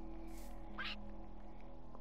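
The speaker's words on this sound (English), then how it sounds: "Pesky bird!" Bird squawking in a Minecraft world, a single sharp, harsh squawk near the middle of a brief moment over a faint steady background hum.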